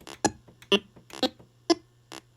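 Short electronic beeps go off about six times at uneven intervals over a faint steady hum, blips from a simple game on a TRS-80 MC-10 8-bit computer.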